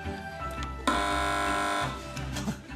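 A game show buzzer sounds on a panel quiz, one loud, harsh, sustained electronic tone lasting about a second, set among light studio chatter and noise.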